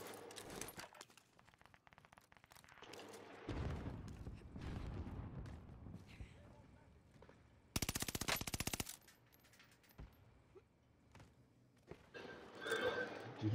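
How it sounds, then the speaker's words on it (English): Machine-gun fire in a multiplayer shooter video game, with rapid bursts of gunshots at varied distances, one dense loud burst partway through, and players talking over the fire. "I wanna try Akihito's gun!"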